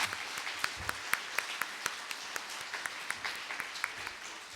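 Applause in a university hall at an outgoing president's farewell ceremony, a faint, distant, steady patter of many hands with sharper claps picking out a loose rhythm.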